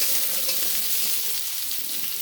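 Potato and eggplant frying for a fish curry in a Bangladeshi village kitchen, a steady loud hiss of oil sizzling with soft scraping as the pan is stirred, no voices.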